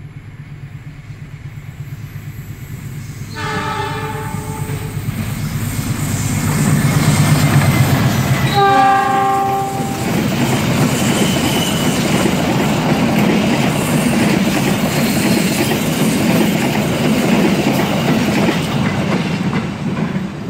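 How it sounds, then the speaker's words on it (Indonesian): An Argo Parahyangan train hauled by locomotive 43F passes near Purwakarta station, sounding two horn blasts of signal 35 followed by a loud, sustained rumble and clatter of wheels on rails. "Gopar 43F dari arah stasiun Purwakarta sudah terdengar suara semboyan 35-nya."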